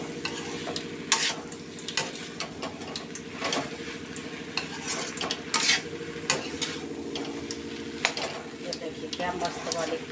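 Okra stir-frying in an open pan, with a steady sizzle and frequent scraping stirs and light utensil clicks against the pan throughout, close and fairly loud.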